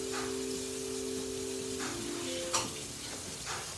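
Butter melting in a pan with flour about to go in, a soft steady sizzle and faint crackle running throughout, with a few light ticks and clinks near the end.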